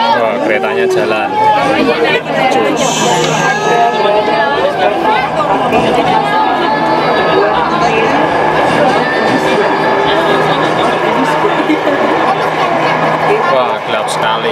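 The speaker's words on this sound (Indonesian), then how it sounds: "Keretanya jalan." A crowded Jakarta MRT train in motion gives a continuous rumble beneath dense passenger chatter and babble throughout, with people talking close by.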